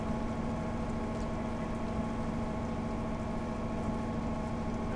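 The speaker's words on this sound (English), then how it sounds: "we are going to accelerate right now to 70 and then to 80" Metro North FL9 locomotives accelerating toward 70 to 80 in Train Simulator, a steady droning diesel engine hum with a constant throbbing tone and no clear rise in pitch.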